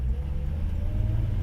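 A 1957 Chevy 210 driving, heard from inside the cabin as a steady low engine rumble and road drone, continuous and close with no talking.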